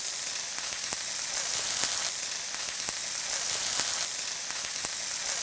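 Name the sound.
tempeh bacon frying and sizzling in a pan with marinade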